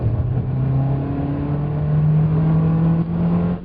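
Small engine of a Mitsubishi Outlander held at high revs by its CVT, a loud sustained droning whine that climbs slightly in pitch, heard from inside the car with no talk.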